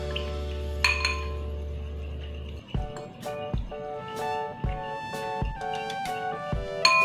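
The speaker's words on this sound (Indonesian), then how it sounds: "Siapkan mangkuk, masukkan tepung maizena, lalu air putih, lalu aduk sampai semuanya tercampur rata." A spoon stirs cornstarch and water in a bowl, clinking against its side in repeated bright, close taps. A low steady hum is heard at first.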